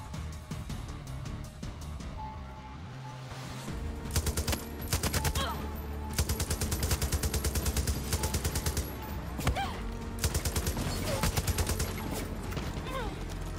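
Far Cry 6 gunfire with explosive bullets: repeated bursts of rapid automatic shots, each with a sharp crackling report, coming in several volleys separated by brief pauses, fairly loud over a low game backdrop.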